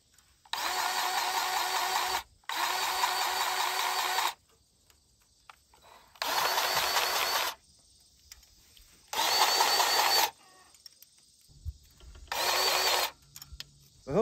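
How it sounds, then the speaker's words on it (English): A DEWALT 20V MAX cordless battery-powered grease gun whirs in five separate bursts of about one to two seconds each, close and loud, with quiet gaps between them, while greasing the zerks on a tractor. "just how easy something like a battery-powered grease gun can make greasing a tractor like this behind me"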